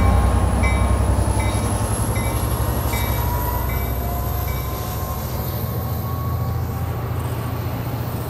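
A 2006 F59PHI diesel locomotive leading an Amtrak Capitol Corridor passenger train rumbles steadily nearby at Richmond station, its engine droning low with rhythmic wheel clatter as it pulls away, continuous and loud.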